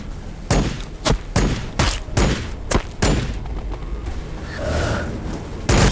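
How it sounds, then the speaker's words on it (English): Flamestorm gauntlets on Space Marine aggressors in Warhammer 40k Battlesector fire in repeated loud whooshing bursts, with several sharp blasts over a dense roaring battle din. "God, I love Flamestorm gauntlets."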